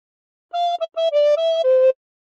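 A recorder plays a short phrase of Bella Ciao, five clear breathy notes in a stepwise run, the second clipped short and the last a little lower, played alone and close with no talking.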